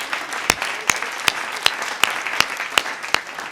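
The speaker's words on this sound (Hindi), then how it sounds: "यहाँ तालियां आती हैं," An audience at a Hindi comedy poetry gathering claps steadily, a dense wash of applause with sharper individual claps standing out every fraction of a second, loud and sustained throughout with no voice over it.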